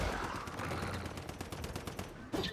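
Gunfire in the survival video game Once Human, a dense rapid rattle of shots that sounds like automatic fire, continuous for about two seconds with a louder burst at the end.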